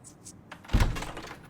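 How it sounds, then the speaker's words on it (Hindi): A door opens in a home with a single soft thunk near the middle, preceded by faint light clicks of the latch and handle, close and fairly quiet. "दरवाजा खोल दोगी प्लीज?"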